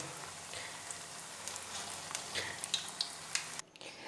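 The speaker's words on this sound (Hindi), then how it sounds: "मैं आप लोगों को फ्राई करके दिखाऊंगी" Chicken malai balls fry in hot oil, a faint, steady sizzle with scattered small pops and crackles throughout, cut off near the end.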